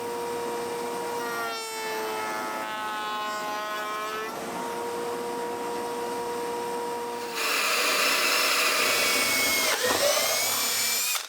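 A router cuts roundovers on wooden table legs for a kitchen island, giving a steady high whine that turns louder and harsher when the bit bites into the wood.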